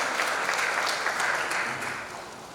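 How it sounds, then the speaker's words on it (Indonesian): An audience at the final of the Bangka Belitung language ambassador pageant applauds the parents in attendance. The dense, steady clapping fills the hall and fades slightly toward the end. "Kita berikan tepuk tangan kepada orang tua yang hadir di sini."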